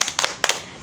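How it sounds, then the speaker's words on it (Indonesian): A group of students claps a short rhythmic spirit clap in a school group counselling session, two quick bursts of sharp, near hand claps. "tepuk semangat lagi?"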